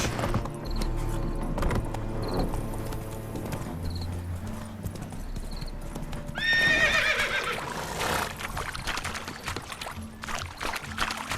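Roach the horse's hooves clip-clop in a steady galloping rhythm in The Witcher 3, with a sharp whinny partway through before the hoofbeats carry on, close and fairly loud.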